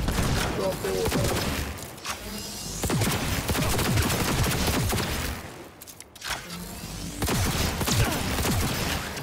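Rapid automatic gunfire and scattered shots from a firefight in the video game Cyberpunk 2077, loud and continuous bursts over about nine seconds with a short lull near the middle, mixed with game noise.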